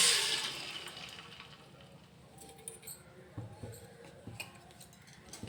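Soaked sago pearls and their soaking water are poured into a kadai, with a short burst of splashing at the start that settles into quieter watery patter and bubbling.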